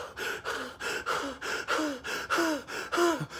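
A voice imitates a woman worn out from doing crunches, panting in a steady run of sharp, breathy gasps and rising whimpers, close and loud, about seven heaving breaths in a row.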